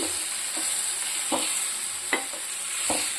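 Bitter gourd pieces sizzling in a pan, a steady frying hiss broken by a few short stirring scrapes, quiet and close with no talk.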